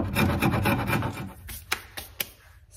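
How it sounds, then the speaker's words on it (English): Old glue is scraped off a wooden dresser part by hand. Quick, rhythmic rasping strokes come close and loud at first, followed by a few separate, sharper scrapes. "I just gotta scrape off a little bit of this old glue."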